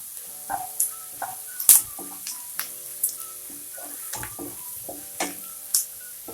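Onions frying in a pan for aloo poha, with soft sizzling under a run of sharp clicks and scrapes as a utensil stirs and taps the pan.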